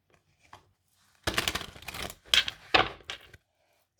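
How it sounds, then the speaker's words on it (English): A deck of tarot cards being shuffled close by, a few quick riffling bursts over a couple of seconds with short pauses between them. "one more shuffle"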